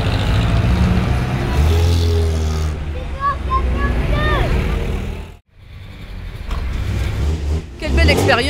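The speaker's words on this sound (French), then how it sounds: "Le bruit du moteur, tranquille." Vintage collector car engine running steadily during a classic car parade in a town street, a continuous low rumble close by with crowd chatter, people talking and a brief drop in noise midway.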